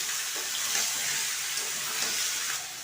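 Boiled potatoes and young jackfruit fry in a pan of hot oil, a steady hissing sizzle that carries on without a break.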